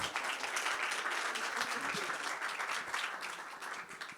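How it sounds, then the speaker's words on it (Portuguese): A crowd at a book fair talk applauds, with a steady, even wash of clapping that stays moderately distant and unbroken throughout. "Palmas para a Bianca."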